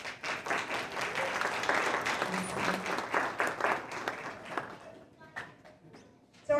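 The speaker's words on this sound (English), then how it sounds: "Should we give a round of applause?" An audience at a second-grade Veterans Day tribute program breaks into dense, loud applause that fades away after about five seconds, followed by a few scattered claps and small noises.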